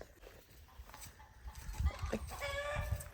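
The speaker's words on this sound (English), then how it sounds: "So to check on the chickens." Chickens cluck faintly in a backyard coop area on a working family property, with a few short bursts over soft outdoor background noise and no talking.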